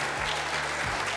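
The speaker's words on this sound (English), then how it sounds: "everybody clapped really loud when you walked out" A studio audience claps loudly and steadily as the general manager and a professional golfer walk onstage, a brief dense burst of applause with no one speaking over it.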